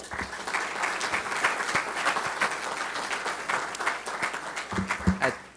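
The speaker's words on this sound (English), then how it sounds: "So a round of applause for our panelists." Applause from a summit audience for a panel of speakers, a dense steady wash of many hands clapping at moderate distance for several seconds, with a few sharper claps near the end.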